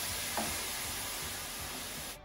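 Coconut milk stirred into cauliflower rice in a hot pan, giving a steady close sizzle and soft scraping stir that runs evenly for about two seconds before stopping abruptly.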